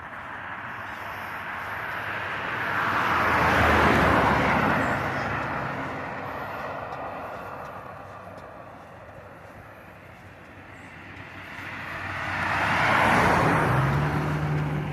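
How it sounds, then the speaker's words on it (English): Two road vehicles pass by outdoors in turn, each swelling into a loud broad whoosh and fading, the first near the start and the second near the end, with a steady low rumble between. "Hold on, 2 vehicles."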